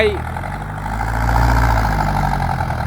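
A six-cylinder Isuzu engine idles close by with a steady, low, even rumble that swells slightly midway.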